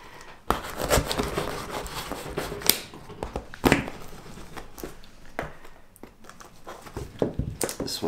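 Fallschirmjäger knife slicing into a tightly packed parcel, irregular crinkling, tearing and scraping of wrapping with sharp cuts and rustles, close up and alone.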